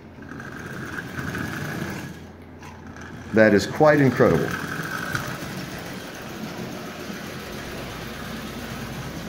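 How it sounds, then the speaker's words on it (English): A Marx 666 smoker toy locomotive, freshly cleaned and oiled, runs with a steady low mechanical whir and a brief louder clatter midway, while someone speaks over it. "this engine is running"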